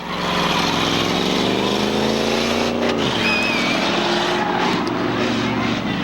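Race cars roar off the line at Seekonk Speedway with a Mercury Cougar in the pack, a loud dense engine drone that swells and then drops in pitch as they pull away, with a commentator talking over it.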